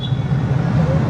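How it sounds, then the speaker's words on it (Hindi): A Yamaha XSR155 motorcycle idles with a steady, low, throbbing exhaust note close to the microphone, holding a constant rumble across a brief moment. "आपको एक बार एग्जॉस्ट नोट भी सुना देता हूँ।"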